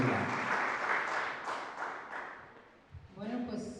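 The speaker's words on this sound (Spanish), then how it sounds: "Vamos a dar un fuerte aplauso al Señor Jesús por la vida de Marisela en este lugar." A church congregation gives a loud round of applause during a service, with a burst of dense clapping that swells and tapers over a few seconds, and a voice speaking near the end.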